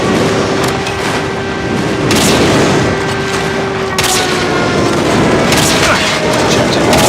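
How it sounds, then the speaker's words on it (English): Repeated heavy booms and blasts from an airstrike in Call of Duty Mobile, loud and dense over steady game noise, with several sharp impacts landing at intervals. "Friendly airstrike incoming."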